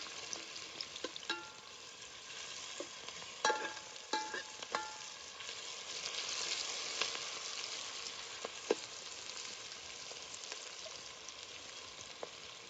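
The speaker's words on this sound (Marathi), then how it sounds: "तेल लय गरम झालं होतं म्हणून आधी कांदा टाकला मी." Chopped onion sizzling in very hot oil for a mutton dish, a steady broadband crackle with scattered sharper pops and occasional utensil clinks, close and fairly loud, no voices.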